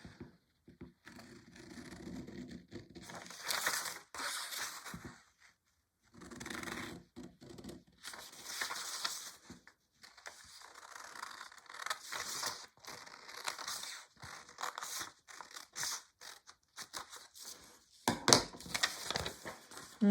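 Scissors snip and crunch through fabric to cut out a pattern piece for an 1804-style ruffle blouse, in short close bursts separated by brief quiet gaps, with paper and cloth rustling.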